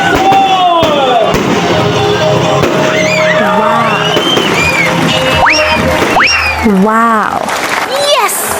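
Grand fireworks display sponsored by a fast-food chain in Lopez, Quezon: repeated loud bangs and whistling rising shells over several seconds, with a crowd whooping and cheering and voices throughout.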